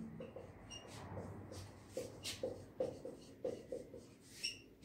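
A teacher writing an example sentence for an English grammar lesson, with soft scratchy strokes in short bursts and taps of the writing tool, quiet and close, with no one talking.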